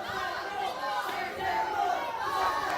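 A wrestling crowd at the Rocobar in Jonquière reacting to a near pinfall, a swelling roar of shouts and chatter, loud and close, rising and falling over about three seconds.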